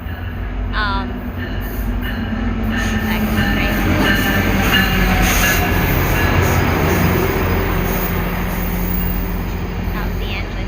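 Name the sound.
train engine passing by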